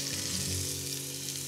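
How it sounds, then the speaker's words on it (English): Chopped onion hits hot lard in a pan for Oaxaca-style refried beans, giving a loud, steady, close hiss of frying that continues without pause. "we don't want a mediocre sizzle in there when we add the onion"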